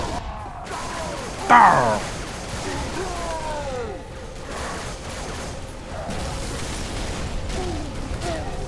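A single loud shotgun blast goes off in a Halo 3 Heroic campaign firefight, a sharp burst amid game noise with someone talking and exclaiming over it.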